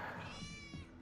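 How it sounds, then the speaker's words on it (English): A Fortnite character gives a drawn-out, whiny cat meow in the video game, fairly quiet and sitting over a murmur of background game noise. "It keeps meowing"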